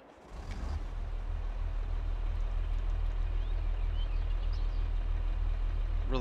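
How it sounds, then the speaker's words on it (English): A JCB Super Fastrac tractor in Farming Simulator 22 cranks and fires up after a brief quiet start, then settles into a steady, loud, low diesel rumble that holds to the end. "Let's fire it up and give it a listen."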